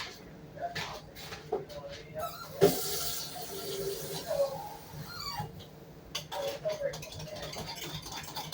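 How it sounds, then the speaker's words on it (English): Water being added to a pan while a crustless chicken pot pie is cooking, with intermittent pouring and splashing sounds mixed with soft kitchen clatter and background noise. "I'm going to add a little water to it."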